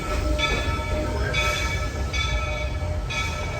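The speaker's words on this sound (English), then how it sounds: "I am gonna take the train to Fantasyland." Disney park train ride heading to Fantasyland, a steady rumbling rolling train with periodic squeaky wheel tones and a high whine, loud and close throughout.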